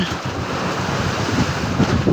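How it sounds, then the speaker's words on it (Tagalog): Rough ocean waves surge around a mother boat being towed at sea, a continuous loud roar of surf mixed with heavy wind buffeting the microphone, with no pauses in the wash. "Dahil palakas ng palakas pa naman ang alon ngayon"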